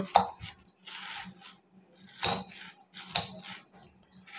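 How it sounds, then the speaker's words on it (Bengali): A metal fork pokes holes in khesari lentils in a pot, giving a few sharp scraping and clinking bursts spaced irregularly over near silence. "আমি কিন্তু কাঁটা চামচ দিয়ে কিন্তু ফুটো করে দিচ্ছি।"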